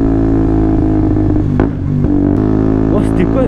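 A four-wheeled scooter passes close by on the road with a loud engine drone and a brief dip as it goes past, followed by clattering and voices talking over it.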